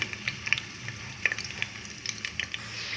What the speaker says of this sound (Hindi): प्याज को करते हैं फ्राई